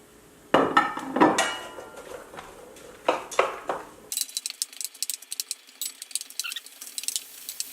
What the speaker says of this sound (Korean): 양파, 호박 한꺼번에 볶아주세요.